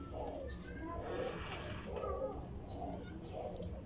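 Turtle doves being fed coo softly in repeated low, rounded phrases, faint and slightly distant, with a steady background hiss.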